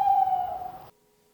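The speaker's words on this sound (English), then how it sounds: "It's an owl." An owl gives a single sustained hoot, loud and close, lasting under a second before silence.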